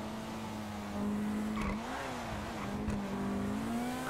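Car engine in GTA 5 gameplay, a steady mid-pitched drone with slight revs and shifts, continuous and fairly loud, with faint background game sounds.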